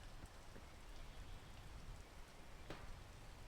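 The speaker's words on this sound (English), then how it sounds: "And now it's raining." Rain falls steadily as a soft, continuous hiss with scattered faint drops, quiet and distant, with no voices.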